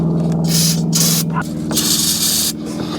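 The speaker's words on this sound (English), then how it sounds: "So I'm just gonna use some carb cleaner here." Carburetor cleaner sprays onto the throttle body of a 2006 Acura MDX with an idling engine, heard as loud bursts of hissing aerosol that start, stop and resume over a steady low engine hum.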